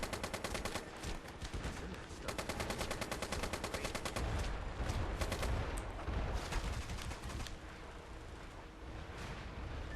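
Gunfire in the PS3 online shooter MAG, with rapid automatic bursts and overlapping shots forming a dense, continuous rattle throughout, heard faintly at low level.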